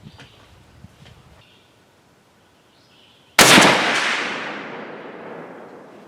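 A Savage 110 Varmint rifle in 22-250 fires a single loud, sharp shot outdoors, followed by a long echoing decay, after a few faint handling clicks.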